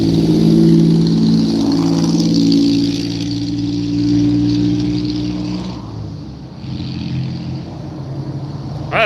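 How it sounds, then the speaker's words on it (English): Loud truck engine revving close by, a sustained heavy rumble that swells and eases over several seconds before settling lower, with no talk. "I swear everybody got around here's got a loud truck."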